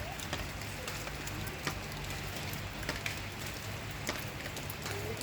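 Steady rain falls throughout the afternoon, a continuous dense patter on surfaces with scattered sharper drip impacts over a constant low hum.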